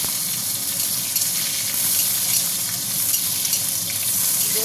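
Round potatoes frying in hot oil with slit green chillies, a steady close sizzle and hiss that stays level throughout with no talking.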